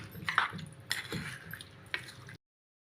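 Ingredients for a Kerala-style sardine curry with fish masala being mixed in a vessel, a close, short run of wet scraping and light clinks that stops abruptly.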